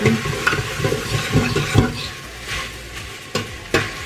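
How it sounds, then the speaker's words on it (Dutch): Minced meat sizzles and crackles steadily in a hot pan, with occasional scraping and stirring taps, close and fairly loud. "Eerst het gehakt nog wat verder bakken."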